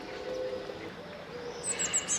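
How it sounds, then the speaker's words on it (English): Birds in the trees of a small garden in the old city of Avignon, with faint high chirps and short tweets over steady outdoor ambience, thin and distant at first, then a few clearer calls near the end. "You hear the birds in the trees, and it's quite peaceful"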